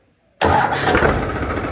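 A 3630 tractor's diesel engine, cold after standing for two days, fires abruptly out of silence and settles straight into a loud, rough, steady idle close by.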